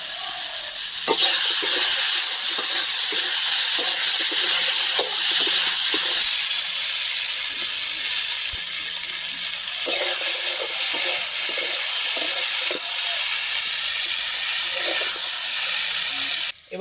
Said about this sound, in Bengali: চিড়ে রাখা কাঁচা লঙ্কা দিয়ে দিলাম এবারে